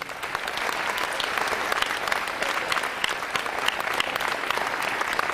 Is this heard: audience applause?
yes